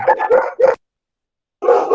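A dog barks in a run of several loud, close barks, falls silent for almost a second, then barks again, indoors during a class held over a microphone.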